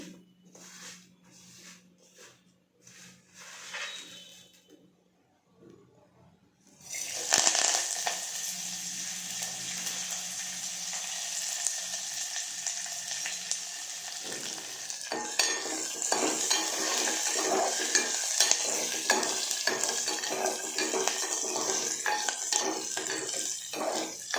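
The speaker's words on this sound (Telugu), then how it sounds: "ఆయిల్ బాగా మరిగాక తాలింపు గింజలు వేసుకోవాలి" Tempering seeds such as cumin go into hot oil with curry leaves for a raw mango dal curry. Light clinks give way to a loud burst of sizzling that keeps crackling under steady stirring and scraping of a metal spoon.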